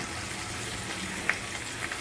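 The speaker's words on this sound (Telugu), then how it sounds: "జాగ్రత్తగా లోలో పెట్టుకొని ఫ్రై చేసుకోవాలి." Chanduva fish frying in a pan with coconut powder gives a steady, soft sizzle throughout, with one faint click near the end.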